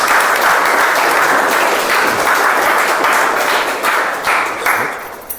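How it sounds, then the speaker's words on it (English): A Toastmasters club meeting audience applauds as a member is called forward, producing loud, dense, continuous clapping from a room full of people that tapers off near the end. "Can we have a round of applause for Abhineet?"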